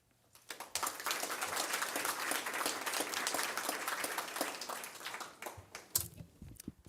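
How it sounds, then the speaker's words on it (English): An audience at a school board meeting applauds students after their presentation: a sustained burst of many hands clapping that swells and then tapers off into scattered claps and a few faint voices. "We'll give you a round of applause first"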